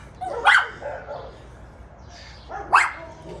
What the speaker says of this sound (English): dog barking time.